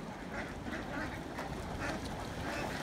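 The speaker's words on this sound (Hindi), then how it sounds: "यहाँ देखो इधर, इधर आप ये देखो डक्स का झुंड।" A flock of ducks quacking at a lake park, with a busy, continuous chorus of calls under steady outdoor background noise and some distant voices.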